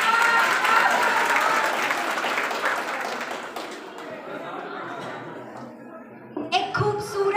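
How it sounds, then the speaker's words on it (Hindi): Audience applause bursts out at a university commerce department freshers party, dense and sustained clapping that gradually thins before a voice and some music-like sounds emerge near the end. "भाई तालियां बजा दो इस बात पे."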